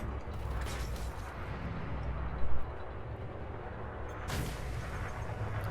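Ship weapons fire at a small, nimble ship in Elite: Dangerous, aboard a Corvette: a dense, steady roar of gunfire and engine rumble with a couple of sharper bursts standing out midway and near the end.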